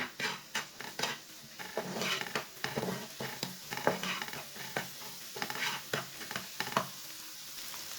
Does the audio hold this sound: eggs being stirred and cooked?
yes